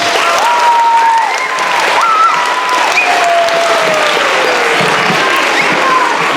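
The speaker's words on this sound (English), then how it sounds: "I think he still deserves a loud applause" An audience at a CARES program ceremony applauds continuously, a dense, loud wash of clapping with a few cheers rising through it.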